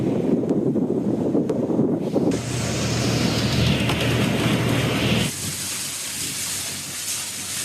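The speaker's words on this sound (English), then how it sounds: "Wind, as expected, has picked up a little bit." Strong wind blows across a sailing catamaran under way, with steady roaring gusts buffeting the microphone and a faint engine hum beneath. The rushing noise shifts in tone twice but never stops.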